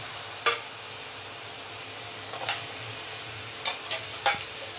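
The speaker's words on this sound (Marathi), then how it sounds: "हे बघा कांदा गुलाबी झाला आहे। आता त्यात शिमला मिरची आणि टोमॅटो दोन्ही आपण एकत्रच ऍड करू।" Onion, capsicum and tomato frying in a pan, with a soft steady sizzle and a few scattered spoon scrapes and stirring clatters.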